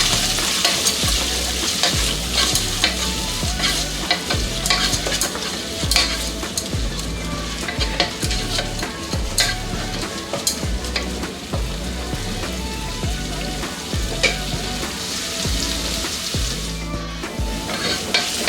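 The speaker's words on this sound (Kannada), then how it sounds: "ಈರುಳ್ಳಿ ಸಾಫ್ಟ್ ಆಗೋ ತನಕ ಇದನ್ನ ಫ್ರೈ ಮಾಡ್ಕೊಳ್ಳೋಣ" A finely chopped medium onion fries in a pan until soft for capsicum palya. A constant bright sizzle runs under repeated rhythmic scraping and stirring strokes, close and fairly loud, with no voices.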